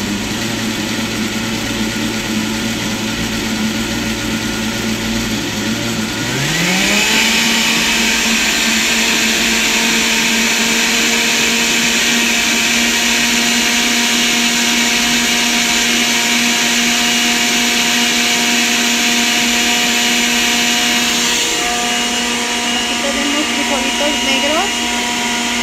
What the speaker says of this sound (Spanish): más la cebollita para esto también poderla moler junto con el tomate y el chile